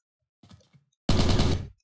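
A mounted machine gun in Minecraft FlansMod fires one short, loud, rapid burst of about half a second, preceded by a few faint clicks.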